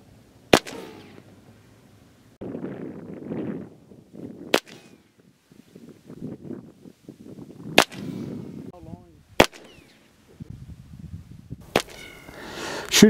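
Rattler .357 airgun fired outdoors on a javelina hunt, five sharp, loud cracks spaced several seconds apart, with quieter rustling and handling noise between shots.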